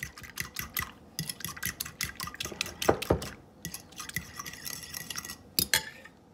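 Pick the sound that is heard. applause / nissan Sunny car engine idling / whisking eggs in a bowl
whisking eggs in a bowl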